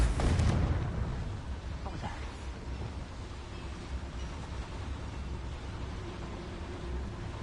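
A Confringo spell explodes in Hogwarts Legacy, opening with a loud burst that fades quickly into a low, continuous rumble lasting several seconds.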